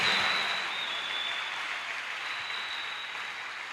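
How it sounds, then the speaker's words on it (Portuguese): Church congregation applauding loudly and continuously, a dense wash of clapping that slowly eases in strength without any voices on top. "Aplauda bem forte ao Senhor"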